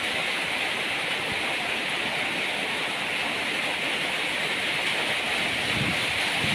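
Rain falls steadily beside a house, a dense, even wash of hiss and patter that stays loud and constant throughout, with no voices.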